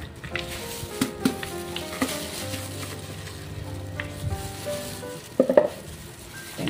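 Peanuts being stirred with flour in a pan, soft scraping and stirring with occasional sharp clinks of a utensil against the pan, faint and close with a low steady background.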